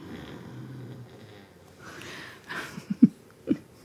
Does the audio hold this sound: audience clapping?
no